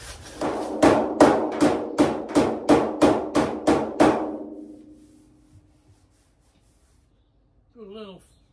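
About ten sharp, evenly spaced hand-hammer blows ring out on the sheet-metal body panel of a 1973 Volkswagen Super Beetle, their clang fading away, followed by silence and a brief voice at the end.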